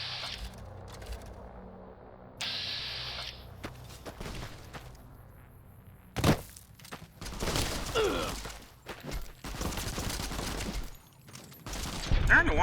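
Gunfire in the Fallout New Vegas video game: scattered single shots and bursts of varying loudness, with a dense volley in the second half and a sharp burst near the end, with brief pauses in between.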